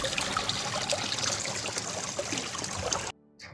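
Water trickles steadily along a small channel cut from a canal to feed rice paddies, a close, continuous watery babble that cuts off abruptly near the end.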